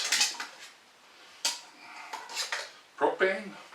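Metal camping pots and cooking gear for a small Jetboil stove clank and rattle close by in sharp, irregular knocks and scrapes, with quiet stretches between them; no one speaks.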